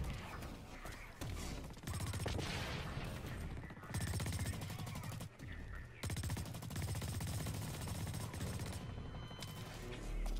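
Bursts of assault rifle fire from a BlackLight Retribution multiplayer match on PS4, sustained rapid automatic volleys broken by short pauses, loud and close, with occasional crashes.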